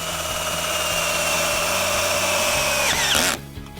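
A power drill fitted with a 6-inch number 2 square-head bit whines steadily while driving a screw into an aluminum railing section, then winds down and stops abruptly near the end.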